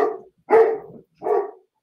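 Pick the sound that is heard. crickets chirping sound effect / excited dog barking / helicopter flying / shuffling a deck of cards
excited dog barking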